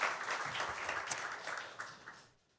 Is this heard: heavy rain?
no